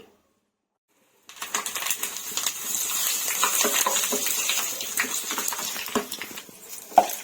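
Dried chillies frying in hot oil on a gas stove, a dense steady sizzle and crackle starting abruptly after a second of silence and running continuously, close and fairly loud, with a brief sharp clink near the end.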